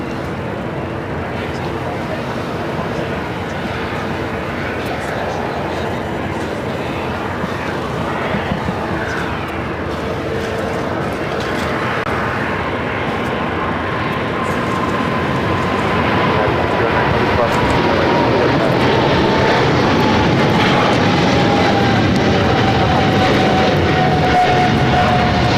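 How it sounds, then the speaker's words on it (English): A Singapore Airlines Boeing 777-300ER takes off from LAX runway 25 right, a sustained heavy jet roar that builds steadily with a rising-then-falling whine, while voices and radio chatter run over it. "This is Singapore Airlines Flight 11 taking off to Tokyo, Narita on a 777-300ER."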